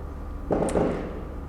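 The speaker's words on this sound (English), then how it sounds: "I have some fireworks outside of my window now" Fireworks bursting outside a window, a muffled boom with a brief crackle heard faintly at a distance over low room hum.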